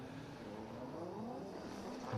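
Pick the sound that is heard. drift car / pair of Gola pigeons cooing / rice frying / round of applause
drift car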